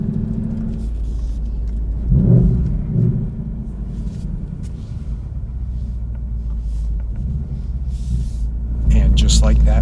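A car engine runs steadily after sitting in winter storage, a loud continuous low rumble with a brief surge near the start, heard alone without talk.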